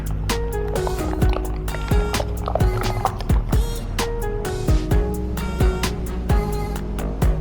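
Foaming screen-printing paint (Unita Foaming 150) is stirred in a container: a continuous thick, wet churning with repeated sharp scraping clicks of the stirrer against the sides, close and steady throughout.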